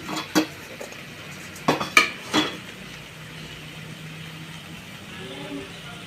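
A clay cooking pot is set down on a stovetop to heat, with a few metallic clanks and knocks, followed by quiet with a faint low hum.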